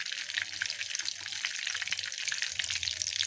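Spices and turmeric sizzle steadily in a spoonful of hot oil in a kadhai while a mushroom curry is cooked, a continuous close crackling fry with no voice over it.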